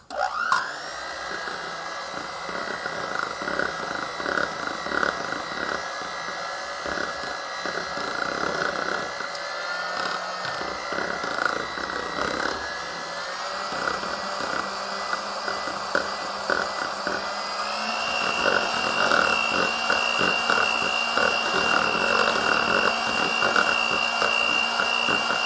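An electric mixer whirs steadily through a batch of lemon cheesecake mousse, a continuous motor drone with a bright high-pitched whine that shifts pitch partway through and grows slightly louder near the end, with no talking.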